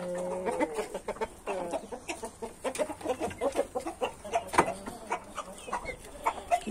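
Chickens cluck in a poultry pen, with a chick among them, giving close, busy overlapping clucks and short calls that repeat steadily throughout.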